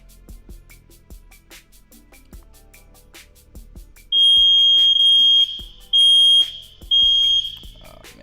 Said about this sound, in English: Someone has triggered the fire alarm.